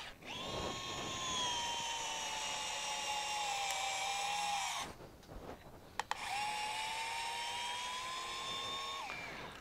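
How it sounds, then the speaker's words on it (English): A DeWalt gyroscopic screwdriver drives a deck screw into a 2x4 with a steady whining motor hum that runs for several seconds, halts briefly, then starts again and runs steadily until it stops. "So it will do a normal deck screw into a 2x4"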